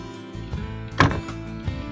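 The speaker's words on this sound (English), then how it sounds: "we should be able to just close the door without having to hit anything" The door of an Arctic Fox 27-5L camper trailer swings shut with a single firm thump and latch click, close by, framed by light handling noise before and after.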